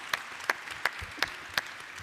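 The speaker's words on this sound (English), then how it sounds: "Let's give the Minister a round of applause, please." A few sparse handclaps ring out for the Minister at the opening session of a global conference on ending child labour: five or six evenly spaced, faint claps in a quiet hall.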